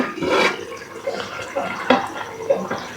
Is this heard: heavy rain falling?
no